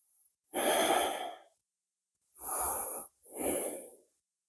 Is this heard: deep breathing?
yes